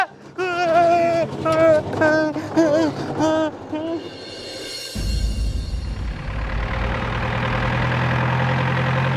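Shouting voices at first, then a tractor's low, rumbling engine starts and keeps running steadily, loud and close.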